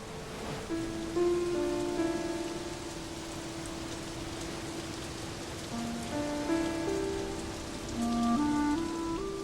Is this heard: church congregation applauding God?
no